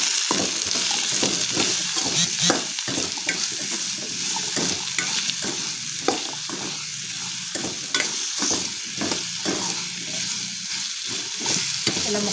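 Ridge gourd pieces with turmeric and salt sizzle steadily in hot oil while a spoon stirs and scrapes the pan in repeated strokes, close and continuous with no talking.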